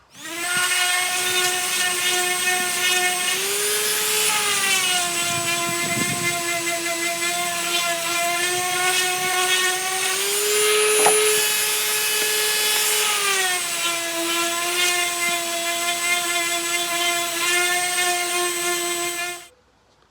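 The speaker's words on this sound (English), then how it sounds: "Now everyone's favorite part, lots of sanding." A power sander with 120 grit sandpaper whines steadily on wooden cornhole boards for a long stretch, a close, loud droning hum whose pitch rises and dips slightly before cutting off.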